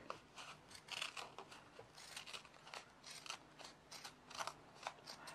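Scissors cut fabric into an orange peel quilting shape, giving a close, quiet run of crisp snips in a steady, uneven rhythm, about a dozen cuts with no talking.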